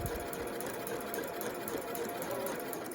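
Sewing machine running a continuous line of stitches down a zip, a steady close mechanical whir holding an even level without pauses.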